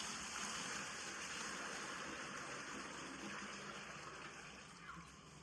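Hot water pouring into a tub, a steady close gush of running and splashing water that holds for the whole stretch and eases slightly toward the end.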